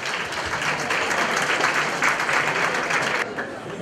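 Audience at a school prom ball clapping steadily, a dense, even wash of many hands that holds for a few seconds and then begins to thin out at the end.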